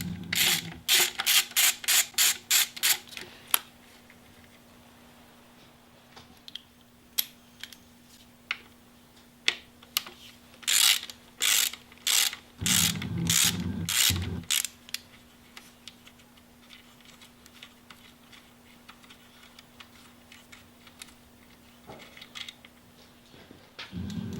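A ratchet wrench backs 5mm bolts out of a rebuilt ABS II unit, giving close, crisp bursts of rapid ratcheting clicks in repeated runs separated by short pauses, with no talking.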